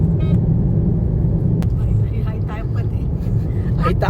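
Steady in-car road rumble and engine drone from a car being driven on the way to Trimbakeshwar, continuous and fairly loud, with voices talking over it.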